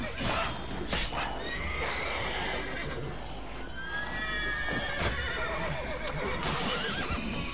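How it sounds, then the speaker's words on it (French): An angry horse in The Witcher 3 neighs and whinnies repeatedly amid hoof clatter and busy combat noise, loud and close throughout. "le cheval il est genre pas content quoi"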